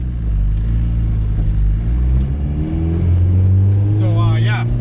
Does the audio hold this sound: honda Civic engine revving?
yes